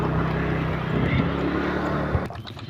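A tractor engine working in a muddy rice field during puddling, giving a steady, fairly loud drone that stops abruptly near the end.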